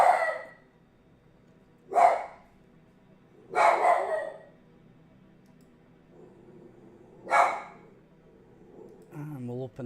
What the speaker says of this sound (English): And people are making noise outside, so the dog's going ballistic.